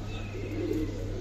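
Giribaz and coloured pigeons coo softly in a brief low burst, close by, over a steady low background hum.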